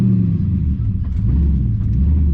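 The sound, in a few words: six-speed manual car engine revving with too much gas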